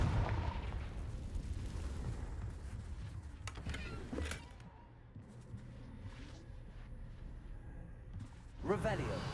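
Hogwarts Legacy gameplay with a booming Confringo blasting-spell explosion up front, then a rumbling tail, scattered crackles, and a sharper burst near the end, heard beneath a speaking voice.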